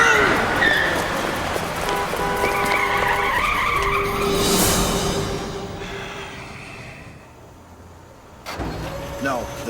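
A stolen car peels away with its tires skidding and engine revving, loud and close at first and then fading off, while someone shouts over it.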